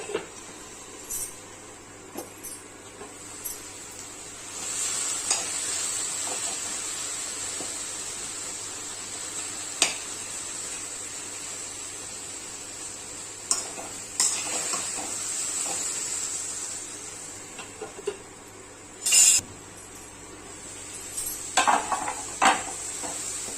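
Tomatoes fry in a covered pan with a steady low sizzle, broken by scattered clinks and scrapes of a spoon stirring against the metal, some sharp and close, with no talking.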